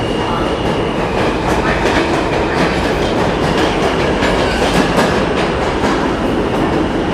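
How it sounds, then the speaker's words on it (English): A New York City F subway train pulls into a station in Queens, a loud, steady rumble of wheels and railcars with rhythmic clattering filling the whole stretch, with no voices over it. "Here's the F train."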